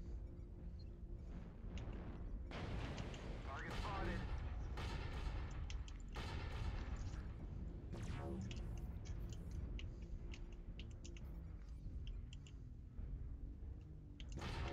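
Bursts of video game gunfire in a mech battle, a Centurion CN9-D with LB-X autocannon and lasers, rattle and thump at moderate loudness amid engine hum and clicking mechanisms, with chatter heard in between.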